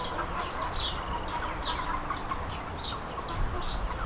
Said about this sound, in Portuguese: Aqui dentro é só os galos, seu Francisco?